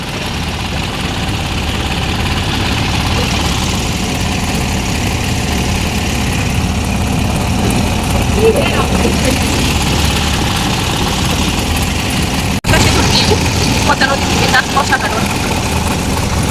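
A boat engine runs steadily at Mawa ghat, a continuous low droning hum with wind and open-air noise, holding an even level throughout; a voice speaks briefly over it.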